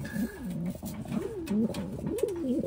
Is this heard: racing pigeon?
yes